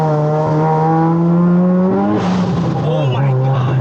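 A 460hp Mazda RX-7 rotary engine revs loudly from inside the car, holding a steady high drone before climbing sharply and settling again, with a voice speaking over it.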